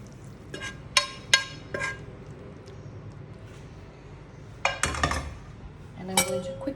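Pasta being plated into a shallow bowl: scattered clinks and knocks of utensils against dishware, in two clusters separated by a quieter pause, fairly close.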